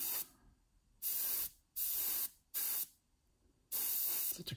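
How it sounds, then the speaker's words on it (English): Airbrush spray of gloss aluminum paint onto Tamiya 1:12 Ducati Superleggera V4 model parts: four loud, steady hissing bursts of about a second each, split by short quiet gaps. "Sometimes adjusting the spray and the flow takes a little bit more"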